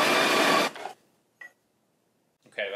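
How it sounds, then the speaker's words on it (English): A coffee grinder set to a very coarse grind whirs loudly through 20 grams of coffee beans for under a second, then cuts off, followed by a couple of faint clicks and a brief rattle. "So first what I'm going to do is get a very coarse grind, and we're going to get 20 grams of coffee out."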